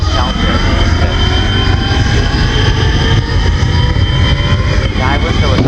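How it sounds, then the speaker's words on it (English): A jet plane engine in the BeamNG driving game roars loudly and steadily throughout, a dense, continuous rumble with a broad high whine on top and no pauses. "a practical plane in this game that would break the sound barrier"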